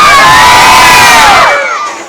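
A large crowd at a pageant event cheers and shouts loudly together, a sustained roar of many voices that is close and dense before fading off at the end.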